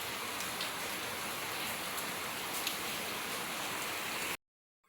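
Heavy rain falls outdoors in a loud, unbroken hiss of drops for about four seconds, then cuts off abruptly into near silence.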